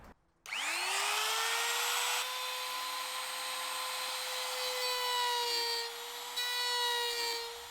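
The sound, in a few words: router routing a recess in wood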